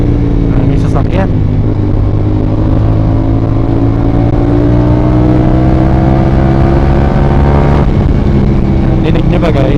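A CF Moto 450 SR-S motorcycle fitted with a new aftermarket exhaust revs loud and close, its deep, bassy engine note rising and falling steadily through the whole stretch with passing traffic noise behind.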